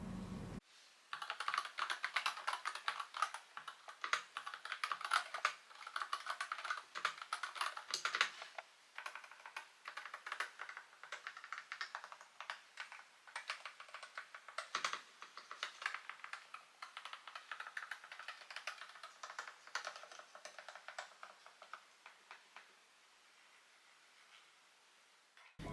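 Fast, continuous typing on an Epomaker HE75 MAG wireless hall effect keyboard, dense clicky keystrokes with a slightly plastic character, close and alone for about twenty seconds before trailing off.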